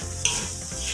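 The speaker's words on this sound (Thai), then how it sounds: "ผัดนะครับให้ซอสแดงนะครับ ทั่วเม็ดข้าวทุกเม็ดเลยนะครับ" Rice being stir-fried in a pan with red sauce, the spatula scraping and tossing it through a steady low sizzle over one short burst, with no voices.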